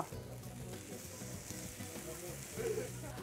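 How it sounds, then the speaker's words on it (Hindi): Potatoes roasting with spices in a pan, a low, steady frying hiss running throughout with faint stirring scrapes and a slight swell near the end. "अब थोड़ी देर पकाएंगे, इन सारी चीज़ों को भूनेंगे ताकि आलू भी पक जाए"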